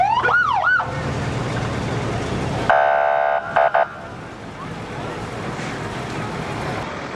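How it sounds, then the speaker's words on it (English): Two fire trucks from Cleveland roll through a Henderson fire department 125th anniversary parade, one siren winding up and down loudly near the start, then a horn blast with short bursts, steady engine and crowd rumble beneath. "Cleveland, another neighbor to the southeast, sent 2 fire trucks to join in the celebration"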